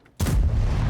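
Grille 15 tank destroyer gun in World of Tanks fires one loud, close boom after a brief quiet moment, and the blast rolls on in a heavy low rumble that fills the rest of the second.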